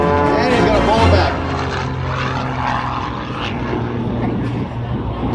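Propeller aircraft engine drones steadily through the scene, loud and continuous with a slight swell near the start, while someone talks over it.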